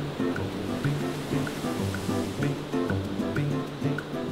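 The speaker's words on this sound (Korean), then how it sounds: "남태평양으로부터 밀려오는 높은 파도" High South Pacific surf rolling onto Bondi Beach in Sydney, a steady loud roar of breaking waves with continuous wash and no talk.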